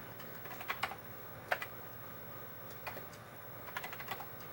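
Fast typing on a Commodore 64 keyboard, sharp close key clicks in quick irregular bursts over a steady low hum, with no voices.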